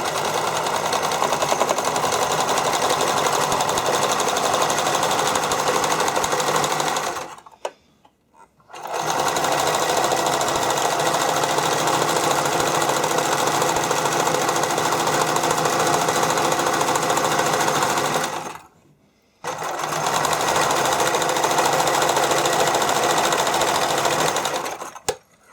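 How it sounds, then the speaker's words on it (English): A domestic sewing machine without a serger runs fast and loud, stitching together the stretched ends of spandex bikini string in three long continuous bursts separated by two brief pauses. "you're going to sew to close the two ends together, like the lengths together"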